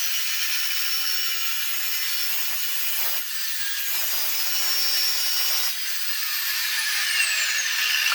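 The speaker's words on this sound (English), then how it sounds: "set this up on my chop saw because it does bevels in both directions" A bevel-capable chop saw fitted with a metal cutting blade slices through steel for trailer tail light housings, a loud, continuous high-pitched grinding whine lasting several seconds with slight shifts in pitch as the cut progresses.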